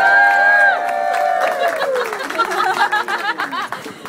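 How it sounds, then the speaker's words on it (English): Crowd at a launch party for a conference bursts into applause and cheers for Cowgirl Julia, loud and close at first, then easing into scattered clapping and chatter with some laughter. "can we please give a big round of applause for Cowgirl Julia?"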